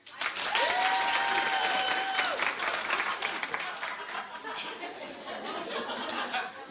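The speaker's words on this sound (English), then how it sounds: "Clap if you care." Studio talk-show audience breaks into loud applause and clapping with some cheering, strongest at first and then gradually thinning out.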